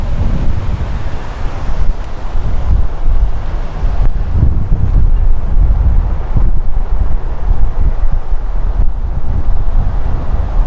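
Strong wind in a dust storm on a canal bank in Boise, Idaho, roaring steadily and loudly into the microphone with heavy buffeting gusts throughout and no speech.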